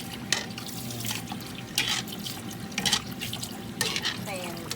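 Water poured off and rinsed under a kitchen tap while preparing a Thai green curry, with running and splashing water bursts in short pulses, close by, under someone talking.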